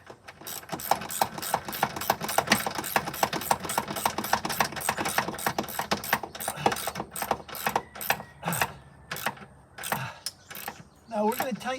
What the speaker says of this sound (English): Now here comes the ratchet.